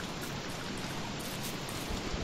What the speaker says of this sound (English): Just had the rain, didn't it?